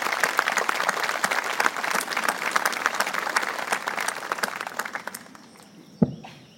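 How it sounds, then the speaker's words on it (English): A ceremony audience gives a long, dense round of applause for soldiers, the clapping tapering off and ending with a single sharp thump. "can we give a round of applause, please, to the WT soldiers who are doing this?"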